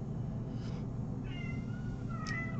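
A cat at a rescue center gives a couple of faint meows, one early and one near the end, over a steady low room hum with no talk.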